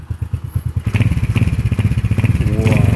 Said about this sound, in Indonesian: Suara knalpot ori seperti ini ya.